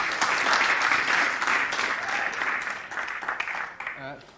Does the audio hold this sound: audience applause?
yes